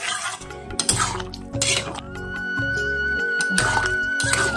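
Soybean curry being stirred in a pan, with clinking strokes of a utensil against the metal pan in irregular bursts over a steady low hum, close and fairly loud with no talk.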